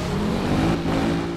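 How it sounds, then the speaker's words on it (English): A car engine revving in the racing video game Need for Speed Rivals, a loud, steady droning engine note that holds without pause for a moment, with no talking. "Oh, this car sounds rather nice."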